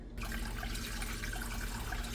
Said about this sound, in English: While that's heating up, we're gonna add in some water.